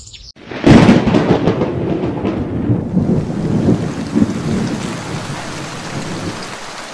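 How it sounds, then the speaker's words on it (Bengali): Cartoon rain and thunder: a sudden loud thunderclap opens onto steady heavy rainfall, the rumble rolling for several seconds before the downpour settles into an even hiss. "বৃষ্টি আইতাছে, সবাই সাবধানে থাইকো।"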